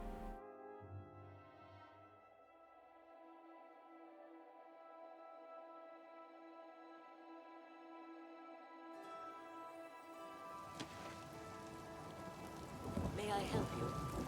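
Rain and rolling thunder in the fantasy game Oblivion Remastered: a steady outdoor downpour hisses throughout, with a low thunder rumble early on and a louder crash building near the end, no talk over it.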